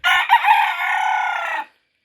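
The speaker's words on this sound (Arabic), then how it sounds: "إذا سمعت الديك يصيح" A rooster lets out a single loud, close cock-a-doodle-doo, a brief opening note followed by a long sustained crow that cuts off cleanly into silence.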